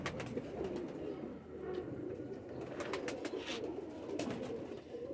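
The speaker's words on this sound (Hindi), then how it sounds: "दोस्तों ये पट्टी वाले कबूतर हैं।" Striped pigeons coo steadily and softly nearby, their low murmuring calls overlapping continuously with faint rustling in the background.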